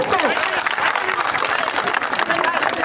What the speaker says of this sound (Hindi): जोरदार ताली बजाएं दोस्तों